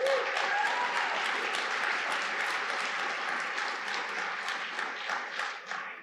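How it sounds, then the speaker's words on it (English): Loud, dense applause from a conference keynote audience, many hands clapping steadily for several seconds before gradually thinning toward the end. "So please give General Miller a round of applause."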